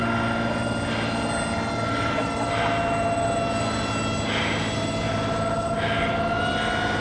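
A 6-foot Dragon model airplane flies after launch, its engine droning as a steady high buzz with a sustained whine that swells and fades slightly as it passes, loud and continuous with no talk.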